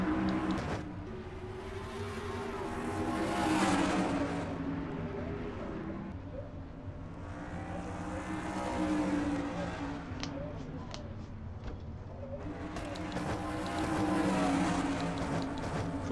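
Race trucks roaring around the square-shaped Flemington Speedway in a racing video game, a steady layered engine drone that swells and fades in waves as the pack passes, loud and continuous.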